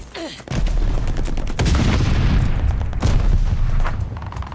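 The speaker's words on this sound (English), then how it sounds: "Teammate, I thought you were laying down cover fire. Throwing grenade." Gunfire and an explosion from the Call of Duty Vanguard team deathmatch on the Berlin map, with a loud burst of shots and blasts starting after a brief lull and continuing densely throughout, with distinct heavy impacts.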